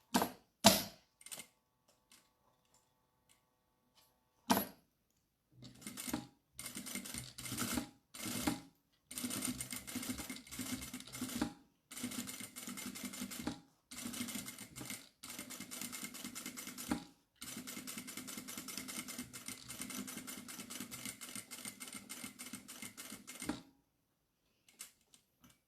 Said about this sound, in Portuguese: Costura a beirinha, porque é só para unir aqui os materiais.